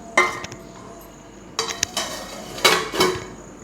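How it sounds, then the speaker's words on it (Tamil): A plate is set over a cooking pot of bottle gourd kola to cover it. A few sharp, close metallic clinks and clatters come in separate bursts with quiet gaps between them. "ஒரு 5 நிமிஷம் அப்படியே பிளேட் போட்டு மூடிடலாம்."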